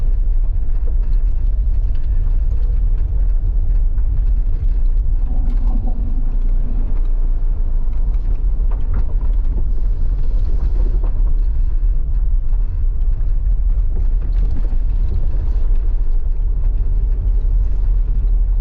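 A car riding over bumpy roads through Mandeville, Jamaica: a loud, steady low engine and road rumble inside the vehicle, with occasional rattles and thumps.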